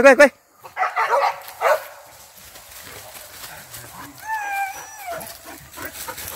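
Hunting dogs barking during a hunt at Silancar, Koto Padang Laweh: sharp, close barks in quick bursts at first, then a drawn-out wavering yelp, with people talking in the background.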